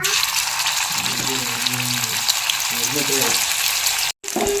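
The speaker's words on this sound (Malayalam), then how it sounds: "എണ്ണയൊക്കെ നന്നായിട്ട് തിളച്ച് വരുമ്പോൾ നമ്മുടെ മീൻ ഇട്ട് കൊടുക്കണം കേട്ടോ" Fish frying in hot sesame oil for a fish pickle, giving a steady, loud sizzle that runs through the whole stretch, with a voice talking over it and a brief dropout near the end.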